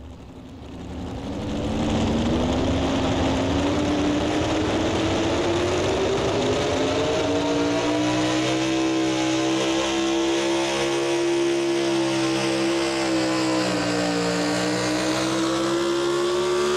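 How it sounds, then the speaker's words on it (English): A pulling tractor revs hard at a night tractor pull event, its loud engine note climbing steadily in pitch as it accelerates, then holding a high sustained roar with a rough, gravelly edge to the end. "First time I've seen this tractor"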